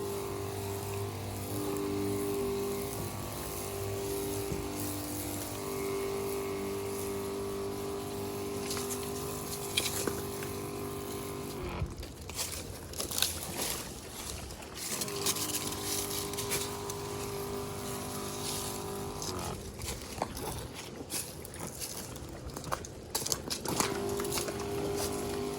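Water spraying steadily as a pressure washer or hose rinses down a vehicle, with a pump humming underneath; the flow cuts in and out in bursts while the spraying goes on.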